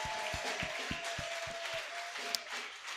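A church congregation applauds in rhythmic claps during worship, a steady run of hand claps over a sustained background hum and murmur.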